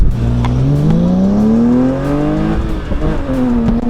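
A supercharged Nissan 350Z pulls hard through first gear, its engine note climbing steadily, then shifts into second and winds up again, loud and close throughout with no talk.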